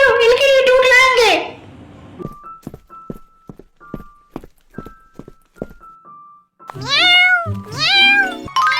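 Cartoon kittens meow in high, drawn-out cries at the start and end, with soft taps and ding-like clicks between them.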